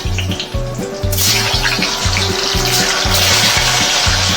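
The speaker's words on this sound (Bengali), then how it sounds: "দিয়ে এবার আমি মুইঠাগুলো ভেজে নেব" Prawn muittha dumplings frying in mustard oil in a pan, a steady, close sizzling hiss that swells about a second in and holds, over a repeating low rhythmic thumping pattern.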